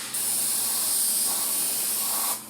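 An airbrush spraying paint onto an E-flite A-10 Thunderbolt II model aircraft gives a steady, close, continuous hiss that runs for a couple of seconds before cutting off.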